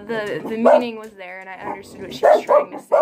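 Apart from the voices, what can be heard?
dogs barking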